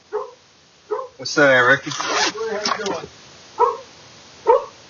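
A Cane Corso mastiff puppy gives several short, close barks and yips, spaced out before and after someone speaks.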